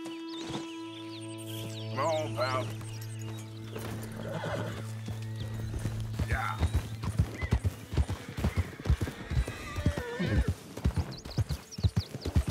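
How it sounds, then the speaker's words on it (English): Horses in the video game Red Dead Redemption 2 whinny loudly near the start, then hooves clip-clop in a quick, close, uneven rhythm against a faint ambient hum. "Some horses here."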